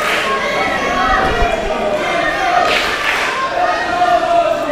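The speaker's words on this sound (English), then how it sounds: "The crowd firmly behind Brandon Day here tonight" Wrestling crowd at a live Brandon Day versus Mempho Mofo match cheering and roaring steadily throughout, a dense loud wash of voices with a couple of swelling shouts.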